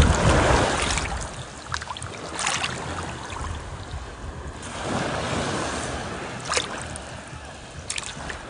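Surf on a beach, a steady broadband wash of waves with swells rising and falling, close and moderately loud, mixed with wind.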